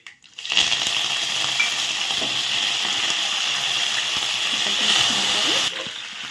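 Cumin seeds and curry leaves sizzle in hot oil in a pan, a loud, steady crackling and hissing that starts abruptly and runs unbroken for several seconds, easing slightly near the end; no one speaks.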